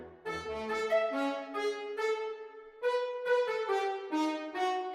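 Clarinet and French horn play solo in a tense orchestral combat-music loop, sustained melodic lines moving in steady phrases, close and fairly loud with no voices.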